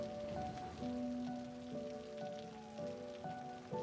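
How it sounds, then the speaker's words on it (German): Steady rain falls in the Cities Skylines city-building game, a continuous soft hiss that runs alone at low level beneath sustained tonal game music. "Und es regnet schon wieder."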